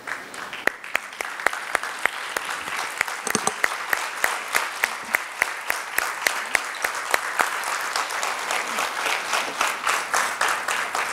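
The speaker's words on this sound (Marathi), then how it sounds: "एकदा उभं राहून सरांसाठी टाळ्या वाजवल्या" Standing audience at a mental wellness talk by Dr. Anand Nadkarni giving sustained, loud applause, many hands clapping in a rhythm that grows steadier, with occasional murmurs from the crowd.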